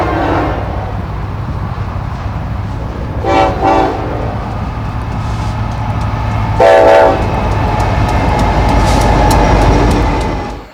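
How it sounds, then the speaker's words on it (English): CN 8898 heritage locomotive leading a BC Rail C44-9WL, with a steady rumble of the passing train and two short, loud horn blasts partway through, rolling noise building toward the end. "Another one of the better trains of this highlight, CN 8898, the CN Heritage, leading a BC Rail"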